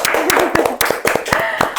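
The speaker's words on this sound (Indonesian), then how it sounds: "Tepuk tangan dulu boleh?" A podcast studio audience claps, giving a quick series of sharp, separate hand claps while a person talks over them.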